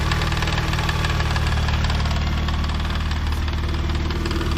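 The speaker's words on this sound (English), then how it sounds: "These engines are renowned for clogging up their hydraulic lash adjusters, so you do get a bit of noise from them." Mazda MX3 K8 V6 engine idling warm, with a rapid ticking clatter from clogged hydraulic lash adjusters riding on a steady low hum, close and loud, giving a diesel-like knock with no talking.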